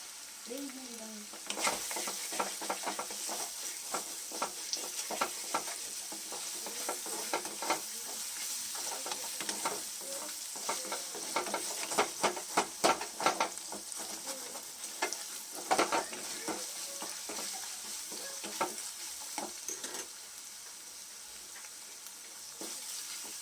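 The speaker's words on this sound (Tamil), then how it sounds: "சின்ன வெங்காயம் பேஸ்ட்டு நல்லா வதங்கட்டும்" Small-onion paste sautéing in oil in a pan while quail gravy is cooked, a soft continuous sizzle broken by repeated scraping and stirring clatters from a spoon, close and alone.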